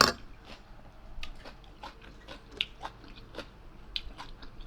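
Close, quiet chewing of fried fermented fish (pla som), with crisp bites and crunches recurring at an irregular pace over faint background noise.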